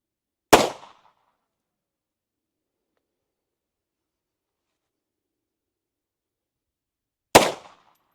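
Two sharp rifle shots ring out at an outdoor shooting range in Pakistan, several seconds apart, each a loud crack with a short decaying tail and silence between.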